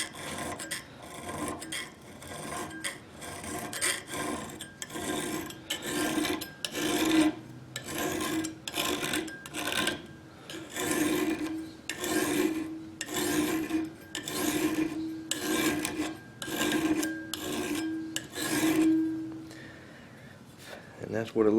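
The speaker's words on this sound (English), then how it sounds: "A fairly smooth file chucked up in our vise here. We're going to use it to put our secondary bevel on." Steady back-and-forth rasping of a fairly smooth file held in a vise, cutting a small secondary bevel on a custom flint-and-steel kit knife blade near the plunge line, repeated strokes close up, with occasional talk.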